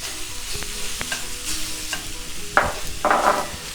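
Carrot with chilli powder and turmeric stir-fried in a pan for chicken spring roll filling: a soft steady sizzle with occasional spatula scrapes and a couple of sharper clinks near the end, no voices.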